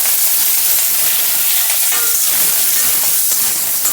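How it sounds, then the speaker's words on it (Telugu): Ten to twelve green chillies fry in a little oil for a brinjal roti pachadi, giving a loud, steady sizzle and hiss close by with faint stirring and no voices. "ఒక 10 నుంచి 12 పచ్చిమిరపకాయలు వేయించేసుకుందాం"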